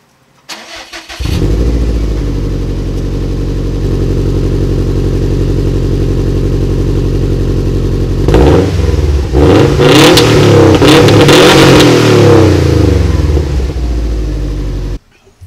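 Car with a vinyl wrap starting up: a sharp crank catches into a loud, steady close idle, then several throaty revs rise and fall before settling back, with no talking.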